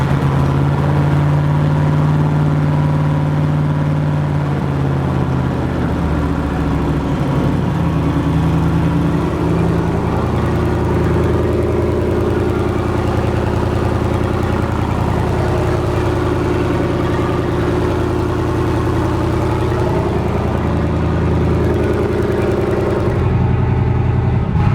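A turbocharged LS6 engine in a Volvo runs loud and steady throughout, idling at a high, even pitch from a suspected vacuum leak, with a constant mechanical hum and no talking.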